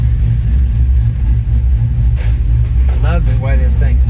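A truck engine idles after a transmission rebuild, a steady low rumble filling the clip at close range, with a voice talking over it near the end.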